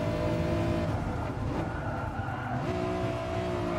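A BMW M4 Safety Car in the racing game Gran Turismo Sport revs high at the Nürburgring, giving a steady loud engine drone with a brief pitch dip midway and no voices.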